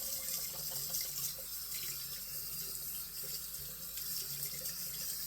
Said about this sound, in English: I'm going to wash this brush out right quick